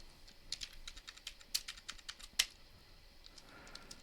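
A password is typed on a computer keyboard: a quick run of light, irregular key clicks, close and fairly faint, ending with one sharper keystroke, and no talking.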